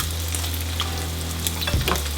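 Sausage frying in its own grease in a pan, cooked for seafood gumbo, with a steady close sizzle and a few stirring scrapes near the end, with no talk.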